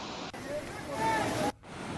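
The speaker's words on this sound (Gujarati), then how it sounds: "પહાડ પરથી પાણીના જોરદાર પ્રવાહના કારણે" Strong floodwater rushing down from the hills after heavy monsoon rain near a river in Dholpur, Rajasthan, a steady loud broadband roar with a brief dip near the middle and a short drop before the end.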